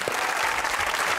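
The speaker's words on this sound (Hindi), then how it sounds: "तालियां।" A studio audience at a comedy talk show breaks into applause, a dense, continuous wash of clapping that stays loud throughout.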